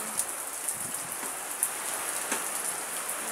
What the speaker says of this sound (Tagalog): Ay, nabot na siya ng ulan.